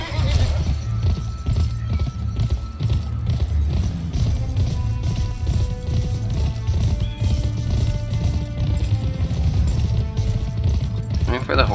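Horse hooves clip-clop steadily in the PS2 western video game GUN, a continuous rhythmic trot with an occasional whinny beneath game music and people talking.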